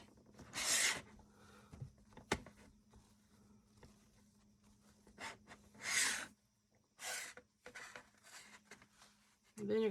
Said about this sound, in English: I'm going to clean the rims of the jars off to get any fat off